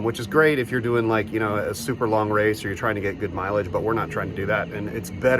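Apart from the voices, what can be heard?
No distinct noise like a dog, phone or traffic.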